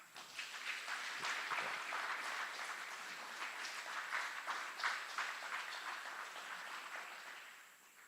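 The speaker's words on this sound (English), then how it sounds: "Please join us in giving a round of applause to these outstanding." Steady, sustained clapping from a large audience at a military aviation brigade graduation ceremony at Fort Eustis, filling the whole stretch and tapering off at the end.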